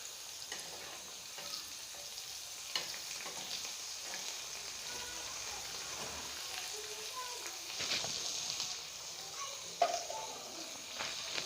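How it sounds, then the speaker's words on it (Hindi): Pieces of arvi (taro root) frying in hot oil for a masala curry: a quiet, continuous sizzle and crackle with occasional louder pops and small stirring clatters, heard steadily with no one talking. "अब जो दूसरे हमारे फ्राई हो रहे हैं इसको निकाल देते हैं।"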